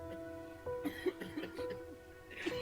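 A man coughs and clears his throat in a movie scene, several short rough bursts spaced across a couple of seconds, fairly quiet, over faint steady tones in the background.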